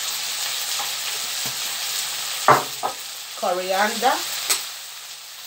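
Sausages and bacon with mixed herbs and coriander sizzle in a pan while being stirred, the frying hiss punctuated by scraping knocks and a short clatter; a voice speaks briefly over it.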